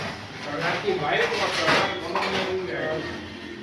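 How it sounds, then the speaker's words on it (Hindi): Dishes, pots and utensils being washed at home, with continuous clattering of metal pots and cutlery and running scrubbing noise, fairly loud and close, no talk. "यहाँ पर जो वाइफ है वो बर्तन वर्तन धो रही है"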